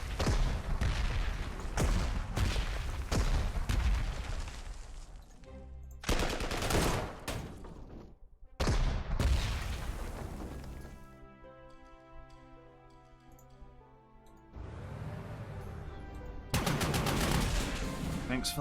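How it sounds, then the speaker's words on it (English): Repeated artillery salvos in the strategy game Panzer Corps 2: loud booming bursts and rapid cracking volleys come in several heavy clusters, separated by quieter stretches of droning tonal game sound. "Let's go, artillery."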